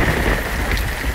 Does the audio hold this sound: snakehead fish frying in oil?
no